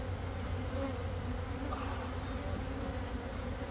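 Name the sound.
Carniolan honeybees buzzing during hive inspection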